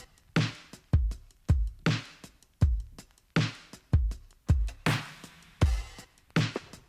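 A steady, straight drum beat with punchy kick and snare hits in a regular rhythm, played loud and close with cymbals washing through.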